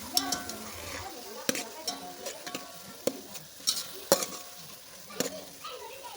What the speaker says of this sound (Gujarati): એક તપેલામાં તેલ ગરમ કરીને એમાં ડુંગળી નાખી દેવાની છે